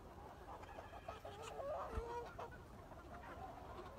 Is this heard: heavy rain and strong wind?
no